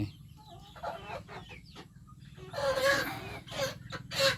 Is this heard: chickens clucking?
yes